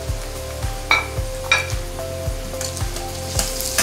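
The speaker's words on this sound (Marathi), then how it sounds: "आता आपल्याला त्याच्यात शिमला मिरची टाकायची आहे, ती पण भाजून घ्यायची आहे।" Onion and bell pepper sizzle and fry in a pan, with steady crackling and a regular series of light scraping stirs and soft clinks, close and alone without talk.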